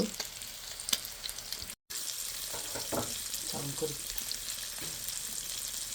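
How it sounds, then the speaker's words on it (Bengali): Onions added to hot oil in a pan after frying fish, with a steady sizzle of frying throughout and a few scrapes of stirring. "এই তেলের ভিতর পেঁয়াজ দিয়ে দেব"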